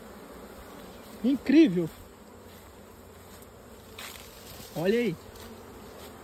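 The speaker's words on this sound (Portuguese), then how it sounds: "E as abelhas trabalhando, ó." Honey bees work around hive boxes, their steady faint buzz filling the background while a voice speaks briefly twice over it.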